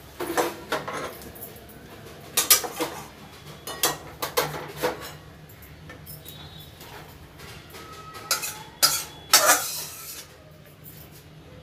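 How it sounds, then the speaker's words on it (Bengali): Cooked posto with tender stalks, potato and bori being scooped from a pan into a bowl in a home kitchen, with scattered metal scrapes and clinks of a spoon against cookware, moderately close, no talk. "এখন আমি গ্যাস অফ করে দিচ্ছি, এটা একটা পাত্রে নামিয়ে নিচ্ছি"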